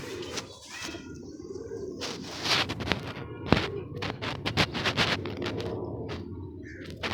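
Pet pigeons, a male beside a female, cooing in soft, repeated phrases close by, mixed with sharp flapping and clattering bursts and light background noise.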